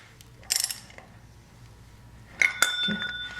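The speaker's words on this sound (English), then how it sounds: "And just snug it up a little bit with the wrench." Wrench snugging the oil drain plug on a Ducati Monster 696 during its first oil change, giving a short burst of ratcheting clicks followed about two seconds later by a second clicking metallic burst, close and fairly clear.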